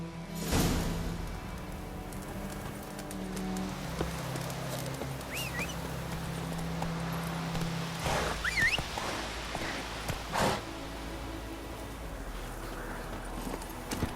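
Roach, the horse in The Witcher 3, drums hooves in a quick, rhythmic clip-clop at moderate volume over a faint outdoor ambience, with occasional scuffs and a few sharper thuds along the way.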